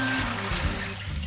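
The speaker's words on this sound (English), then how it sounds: "So we're just going to take a strainer and drain our beans." Water drains from soaked beans poured into a strainer: a close, steady splashing trickle that runs for about a second with no voices.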